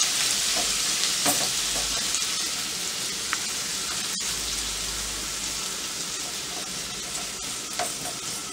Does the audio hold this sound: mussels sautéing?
yes